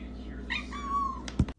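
A cat gives a short meow with a rising, drawn-out tone, followed by a few quick sharp sounds near the end. It is close and fairly clear, with no one speaking.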